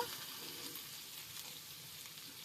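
Ginger garlic paste sizzling as it fries in a pan while cooking prawns with yam and potato, a steady soft crackling hiss with no voices, fairly quiet and unbroken.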